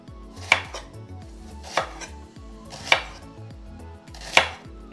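Knife chopping a quarter onion into thin strips on a board, four sharp, evenly spaced blade strikes ringing out close and clear with no talking.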